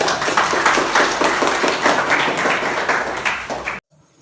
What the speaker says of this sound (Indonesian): berikan aplaus yang meriah buat kelompok